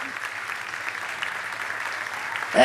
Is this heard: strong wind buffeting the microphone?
no